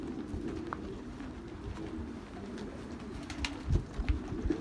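Young pigeons cooing softly in a pen, low murmuring coos repeating under a faint background hum, with occasional light bumps and shuffles toward the end.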